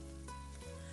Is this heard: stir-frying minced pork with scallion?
yes